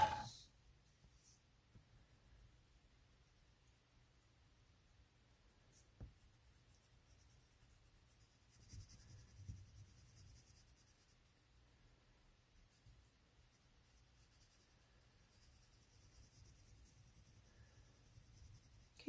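A colored pencil shading a dark sky area on paper, a very faint, soft scratching that comes and goes in quiet strokes with brief pauses between them.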